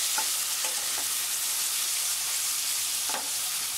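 Prawns frying in a pan with browned onions make a continuous bright sizzle, with a few soft stirring scrapes breaking through near the start and again toward the end.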